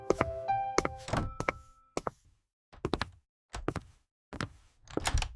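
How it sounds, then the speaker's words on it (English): A house front door is opened with a series of close, solid thunks and knocking bumps in separate bursts, with short quiet gaps between them. "Open the door."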